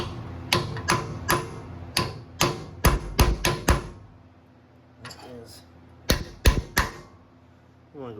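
Sharp metal hammer blows strike an old tractor axle in irregular clusters, loud and close, with a pause before a final burst of strikes and faint background noise.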